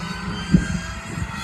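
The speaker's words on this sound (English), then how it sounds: "Oh, listen to that noise from the Mini." A supercharged Mini on track at Donington Park during a track day, its engine a steady low droning roar from mid-distance with a brief louder swell partway through.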